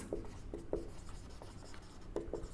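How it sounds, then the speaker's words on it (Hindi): Writing on a board during a classroom lecture makes faint, short scratchy strokes that come in small irregular clusters, with a quiet room behind them. "मैं यहां पे लिखता हूं"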